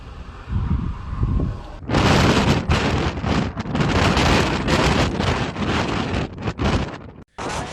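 Strong windstorm gusts sweeping through a Chinese city during Beijing's first orange wind alert in a decade, a loud, continuous roaring buffet of wind against the microphone, quieter at first then surging hard and steady with a brief drop near the end.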